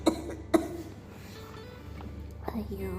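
Someone sick with fever gives two sharp, close coughs near the start, followed by quieter breathy sounds and a faint throat noise near the end.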